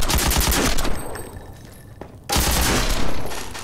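A pulse rifle in Half-Life 2 (Cinematic Mod) fires loud, rapid automatic bursts up close, with a brief pause mid-way before another sustained volley.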